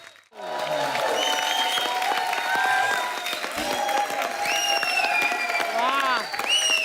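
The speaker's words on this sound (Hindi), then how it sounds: "एक बार जॉन और मोनी के लिए जोरदार तालियां" Loud studio audience applause on a Hindi comedy talk show, a continuous wash of clapping and cheering for the guests, with music stings and voices layered over it throughout.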